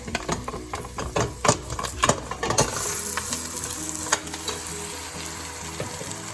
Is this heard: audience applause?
no